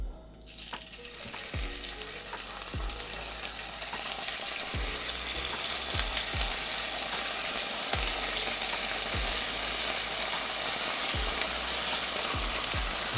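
Brook trout sizzling skin side down in a hot pan, a steady close frying hiss with scattered pops and low thumps from the pan throughout, no voices.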